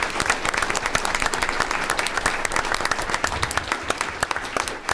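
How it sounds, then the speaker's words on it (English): An audience at a school board meeting applauds the People's Choice award winners with dense, sustained clapping that stays steady and loud for the whole stretch. "So let's have one more round of applause for all of our People's Choice winners."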